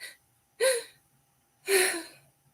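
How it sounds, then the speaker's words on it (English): Two sharp, breathless gasps for air, spaced about a second apart, each a short ragged inhalation with a voiced catch, heard alone and close in a quiet setting. "gasping for each new breath"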